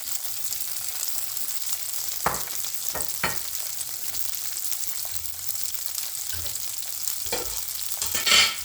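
Shrimp frying in a pan for shrimp biryani rice gives a steady, close sizzling hiss, broken by a few sharp scraping clatters of stirring.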